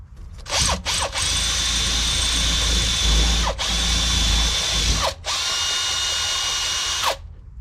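A power drill bores a new hole through a metal bracket on a supercharged K20 Honda Civic wagon, a loud steady whine with brief pauses and restarts.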